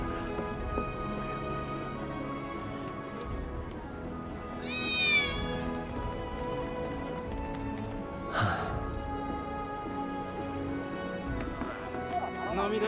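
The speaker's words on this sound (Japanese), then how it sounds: "猫の鳴き声、三兄弟かな。" Cats meowing in the video game Final Fantasy VII, several short cries around the middle and end of the clip, heard over steady game music with clip-clopping hooves in the background.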